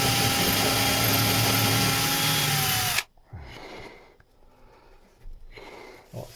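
A power drill re-drills a hole in wood in one loud, continuous whine for about three seconds, then cuts off, leaving quiet shuffling handling noises.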